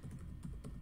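Code is typed on a computer keyboard in a few quick, quiet keystrokes, each a soft close click at an uneven rhythm, with no talking.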